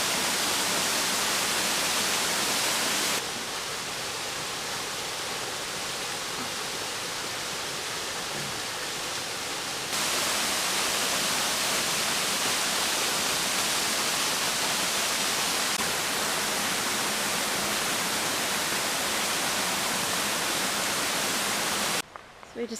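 Rushing water at Janie Falls on Deep Creek roars as a dense, constant broadband wash, loud and close throughout with slight shifts in level, then ends abruptly.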